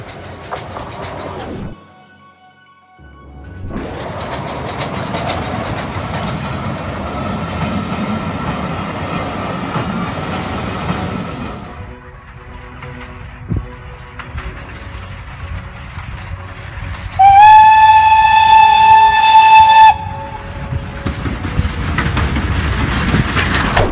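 A preserved Terrier steam locomotive on the Kent and East Sussex Railway rumbles past close by with clanking wheels, then sounds a loud, sustained whistle for a few seconds before the train noise continues.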